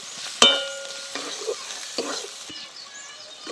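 Ground spices, including Kashmiri chilli powder, frying in a pan for dhaba-style chicken curry, with a sharp metallic clank followed by repeated scraping stirs over a crackling sizzle, close and fairly loud.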